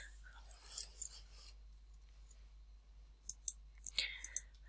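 Scattered light keyboard clicks at a desk, a few soft taps early and then a quick irregular burst of sharp keystrokes near the end, quiet and close over near silence.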